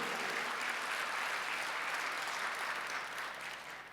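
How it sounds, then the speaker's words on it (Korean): A church congregation at a Sunday worship service applauds in a steady wash of many hands, fairly distant and soft, tapering off near the end. "박수하세요."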